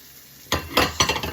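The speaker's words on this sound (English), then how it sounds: "Stir that in with the onions. And cook this down a little bit." Broccoli is stirred into softened onions sizzling in a pan, starting with a quiet hiss and then loud, close scraping stirs over steady frying.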